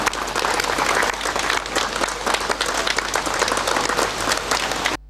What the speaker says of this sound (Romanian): O să vă rog, doamnelor și domnilor, să primim cu aplauze pe Aristide Necula.